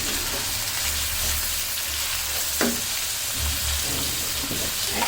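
Beef frying with onions and spices in a pan, a constant hissing sizzle with occasional scrapes of stirring, close and steady throughout.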